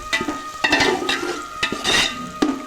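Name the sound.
stirring biryani in a cooking pot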